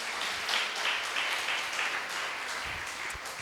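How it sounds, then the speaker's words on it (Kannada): A church congregation at an Easter worship service claps together, a soft, steady applause heard from a distance that fades a little toward the end. "ಚಪ್ಪಾಳೆ ಬರಲಿ ಅಪ್ಪರಿ."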